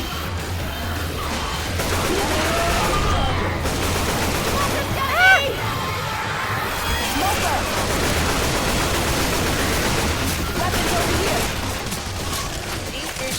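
Gunfire in Left 4 Dead, a steady clatter of shots and impacts running through most of the stretch, fairly loud and dense, with a sharp burst near the middle and voices talking over it.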